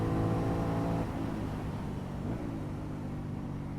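An Aprilia Shiver 900 motorcycle from 2018 accelerates hard while overtaking on the road, its engine a loud, steady drone that holds strong throughout, with the note shifting slightly as the revs change.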